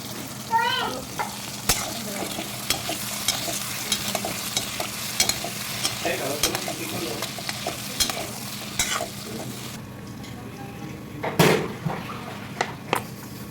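Potatoes frying in hot oil with a steady, close sizzle, interrupted by the scrape and clatter of stirring against the pot and brief, faint voices in the background.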